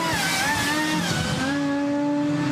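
A supercharged three-rotor Wankel rotary engine powers a Mercedes CLK rallycross car at a rallycross event in Strängnäs, Sweden, with a steady loud engine drone and gliding whine that rises and falls continuously throughout.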